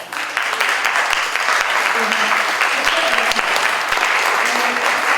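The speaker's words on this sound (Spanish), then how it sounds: "les dejo con ustedes un fuerte aplauso" An audience at an academic colloquium on Mexican art and culture breaks into loud, sustained applause for a presenter, steady close clapping that fills the whole stretch.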